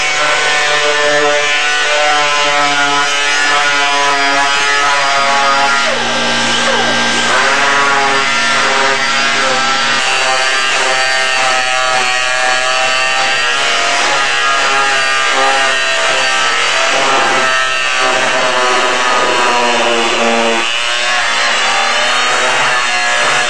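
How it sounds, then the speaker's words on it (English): An air-powered disc sander grinds steadily against the edges of styrofoam, with a loud, continuous rasping whir that runs without a break, close up and with no voices over it. "the disc sander here, and we're going to rough up the edges."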